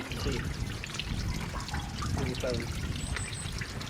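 Fresh spring water trickles and splashes over rock in a forest, a continuous close bubbling flow with a faint voice murmuring underneath.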